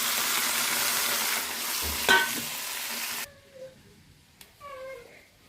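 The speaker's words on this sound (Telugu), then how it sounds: "పచ్చిమిరకాయలు, టమాటాలు మగ్గుతున్నాయి" Green chillies and tomatoes frying in a pan for guava chutney give a loud, steady sizzle for about three seconds with a brief clatter of stirring, then drop to a quiet simmer as faint voices and a few high squeaks come in.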